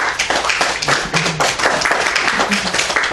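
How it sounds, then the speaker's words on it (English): A church congregation claps hands for the Lord in a loud, close burst of many hands striking quickly and unevenly, lasting about three seconds with a few voices underneath. "Let's give the Lord a big hand clap"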